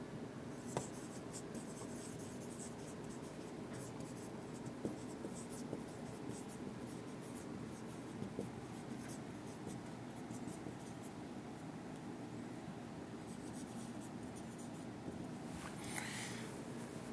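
A pen scratches across paper during an accounting lesson, a faint, steady scribbling with small taps and strokes running throughout, close but quiet.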